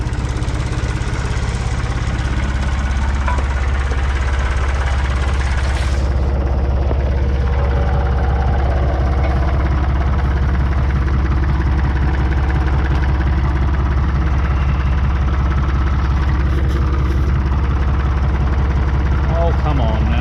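A 484 tractor engine idles loud and close in a steady low rumble with constant vibration, with a brief clatter partway through.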